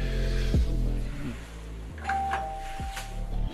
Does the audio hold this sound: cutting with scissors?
no